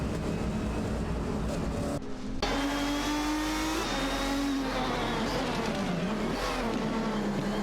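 Race car engines in a video game, several cars on track including a Nissan 350Z GT1 and Lamborghini Murcielago RGT, roaring and revving loudly throughout with rising gear-change pitch sweeps, a brief cut near two seconds and faint tire squeal.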